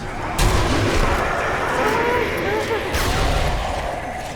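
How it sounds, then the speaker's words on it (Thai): Video game explosions in Sniper Elite: Nazi Zombie Army: two loud booming blasts a few seconds apart, each with a sudden onset and rumbling tail, over ongoing gunfire noise while players talk excitedly. "เฮ้ยระเบิด"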